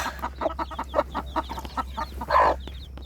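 Newly hatched chicks peep in quick, repeated high chirps close by, with a hen clucking among them and a louder burst of cackling near the end.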